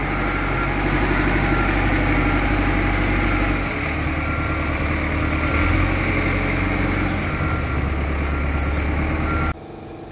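A Cat 428F backhoe engine, recently overhauled and low on gear oil, runs with a loud, steady droning rumble and mechanical whine, dropping in pitch partway through before cutting off abruptly near the end.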